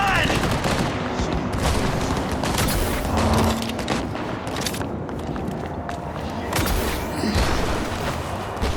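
Gunfire in the Cyberpunk 2077 video game, sustained loud rapid shots and bursts layered over dense game noise.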